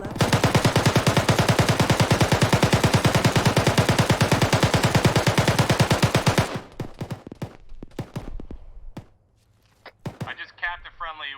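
Rapid sustained machine-gun fire in a video game rattles loud and close for several seconds, then breaks into scattered single shots and small bursts, with game voice chat speaking over it.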